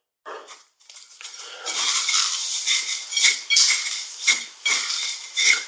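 Panko breadcrumbs and spice mix are patted by hand onto chicken breast for a southern fried burger. A run of soft, crisp crunching pats comes in uneven bursts, close and fairly loud.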